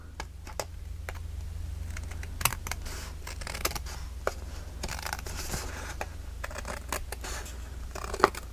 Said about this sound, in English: So I am going to just come in with my scissors.